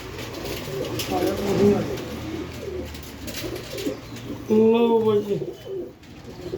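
Pigeons coo in bursts at a pigeon sale, close and clear, with someone speaking briefly over the birds.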